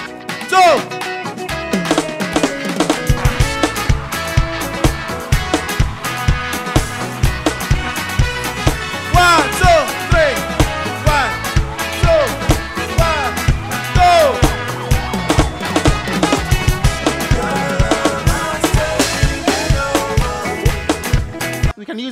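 Afrobeat drum kit groove with rolling fills built on reverse paradiddles, loud and busy with dense rhythmic hits over backing music throughout.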